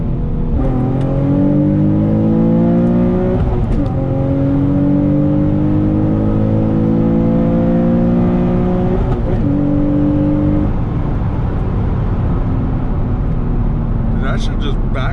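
A Nissan 350Z Nismo accelerating hard from inside the car, a loud engine rising in pitch through the gears with brief drops at each shift, and a sharp crack near the end that could be a backfire.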